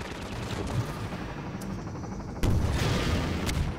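Enemy gunfire in the video game Half-Life 2, a dense rattle of shots over a rumbling background with a sharp loud burst midway, no talk.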